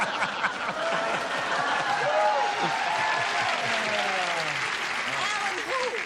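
A television game show studio audience applauds steadily and loudly throughout, dense clapping with a few scattered chuckles and some voices mixed in.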